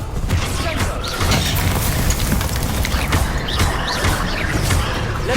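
Spell explosions in the Hogwarts Legacy video game: a busy, steady barrage of blasts and crashes with chirpy magical effects layered over a constant low rumble, loud and continuous throughout.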